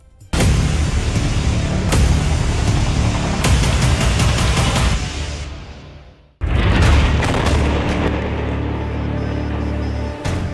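Series of heavy booming explosions, loud and close, with rolling rumble between blasts and a second burst after a brief drop.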